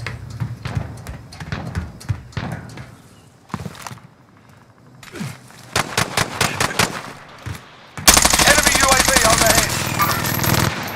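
Sustained machine gun fire in the Warzone video game comes in choppy bursts that stop and start. It then swells into a loud, unbroken stream of rapid shots near the end.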